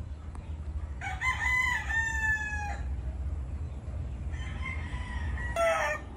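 A Raptor Sweater broodstag rooster crows in two clear calls with a pause between them, loud and near over a low rumbling background, with no talk.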